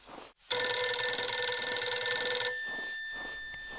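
An old-style telephone bell in a Tomb Raider custom level rings loud and close for two seconds, then cuts off and leaves a lingering hum under faint background sound.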